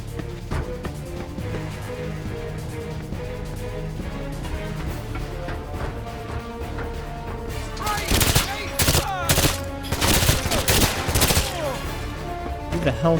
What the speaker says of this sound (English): they're just shooting me through the crate